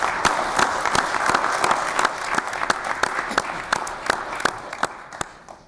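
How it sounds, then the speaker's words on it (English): Applause at a county board meeting, a sustained round of many hands clapping in a room that gradually tapers off. "I'd like to give them a round of applause."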